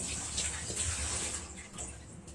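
A frying pan with leftover oil from fried eggs being rinsed under running water, a close, steady splashing gush with small sloshing shifts and a brief quieter dip partway through.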